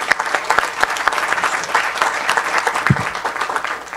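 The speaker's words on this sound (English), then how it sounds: "let's just give them all one round of applause real quick" A roomful of people gives a brisk round of applause at a county council proclamation ceremony, dense clapping with a few sharper individual claps standing out near the front.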